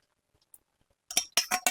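A metal plate clinks against utensils as it is greased with oil before pouring in suji barfi, with a cluster of three or four bright metallic knocks after near silence, close and fairly loud.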